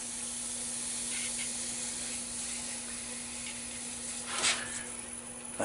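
Starbond CA glue accelerator sprayed over a wet coat of CA finish, giving a steady close hiss throughout with a short stronger burst near the end.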